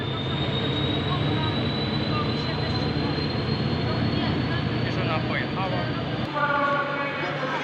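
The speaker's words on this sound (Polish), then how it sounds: "SM 42 616 popycha skład Kurburana." An SM42 diesel locomotive pushing a passenger train at a station in Katowice gives a steady, loud engine drone with a rising whine throughout, and the sound shifts near the end.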